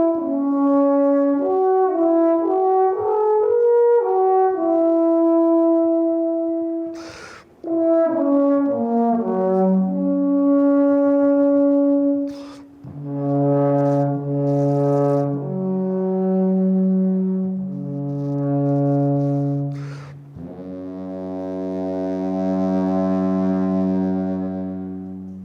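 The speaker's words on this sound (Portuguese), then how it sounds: "Esse é o som da trompa alpina" An alphorn plays a solo melody of sustained, resonant brass tones with a few short breaks, each note ringing out clearly and close.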